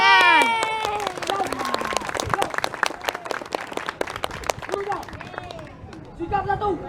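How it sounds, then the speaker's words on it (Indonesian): A burst of clapping from a group at an Indonesian Independence Day marching contest, sharp and scattered, mixed with shouting voices and crowd chatter, fading into scattered claps. "Tepuk tangan."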